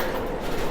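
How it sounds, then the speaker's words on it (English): A garage door closes with a dense, steady rumble and a mechanical rattle. It is loud and continuous for a brief moment, with no speech. "But we will close this garage door."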